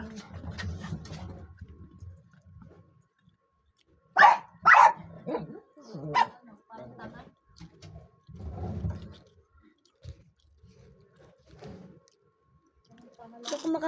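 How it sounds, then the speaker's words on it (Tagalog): Loud sharp dog barks burst out in a cluster midway, with lower murmuring talk and some bird cooing around them. "Maingay talaga aso namin guys."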